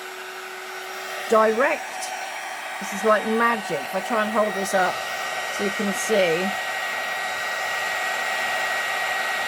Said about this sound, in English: Heat gun on. Sorry about the noise.